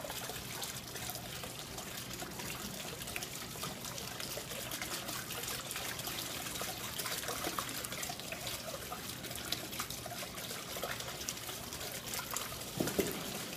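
Water trickles from an overflowing koi pond filter down into a drain, a faint, continuous dribble with small splashes, steady and quiet with no talk over it.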